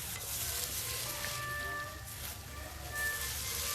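Chopped onions frying in a pan for capsicum bonda, giving a faint, steady crackling sizzle with a soft background hum and a few thin tonal whines. No one speaks.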